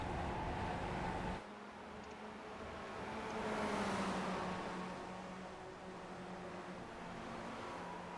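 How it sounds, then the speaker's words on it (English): A Spec Racer Ford race car engine revs and climbs in pitch under throttle in an iRacing sim at Zandvoort, a steady droning whine with a brief dip early on before it rises again, heard continuously with no talk. "Get right back on the throttle."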